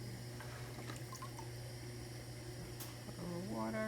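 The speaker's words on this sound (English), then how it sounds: "So I squeeze the water against the back of my hand, which then drips it down" Water squeezed off a hand drips onto a clay cylinder spinning on a pottery wheel. Soft wet trickles sit over a steady motor hum, with a rising whine near the end.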